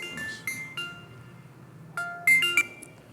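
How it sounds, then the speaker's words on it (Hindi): A phone rings during a chemistry lecture, sounding as a few short electronic tones in uneven bursts. The tones are moderately loud against a quiet room, with no talking over them. "क्या कौन फोन कर रहा है तुमसे?"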